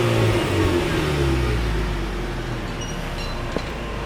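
Car engine revving hard up close, a loud sustained roar that eases off slightly toward the end, heard alone without talk.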